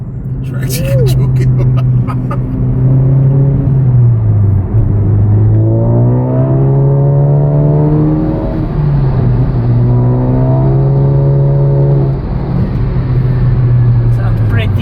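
A MK7.5 Volkswagen GTI fitted with a cut-down AWE exhaust drones steadily up close, and its engine note swells upward in two rev blips before dropping back to a quiet, even hum.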